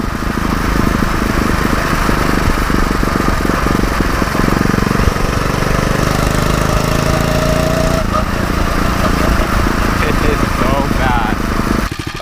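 A small 79cc four-stroke, fan-cooled engine on a motorized bike runs continuously close by, a loud, steady, buzzing idle with slight shifts in pitch partway through.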